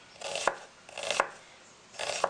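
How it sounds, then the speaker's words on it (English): A knife chops onion on a cutting board in three crisp, evenly spaced strokes, close and clear, with no talk. "So for my tofu scramble, I used about a quarter of an onion, and I just finely chop it."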